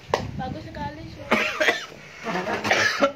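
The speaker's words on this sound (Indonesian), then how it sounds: "Ih batuk." A short cough under nearby casual talk at an informal wedding gathering in Lombok, followed by further speech.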